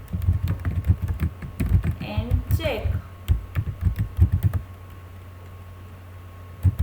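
Keys clatter in quick uneven bursts on a computer keyboard close by, pausing briefly while a voice speaks, then resuming before a quieter stretch with a low steady hum.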